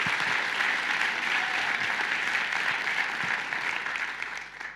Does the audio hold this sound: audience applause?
yes